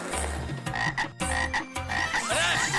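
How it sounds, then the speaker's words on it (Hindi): Frogs croak loudly and close by in a dense run of repeated throaty calls, with short gaps between bursts and no talking. "ये मेंढक कहाँ से आ गए?"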